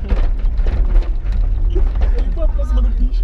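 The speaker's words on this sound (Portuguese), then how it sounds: "Olha o porta-mala abriu." A car trunk swings open with a loud, close mechanical creak and ratcheting grind, continuous and busy throughout, set among old trucks in a vehicle scrapyard.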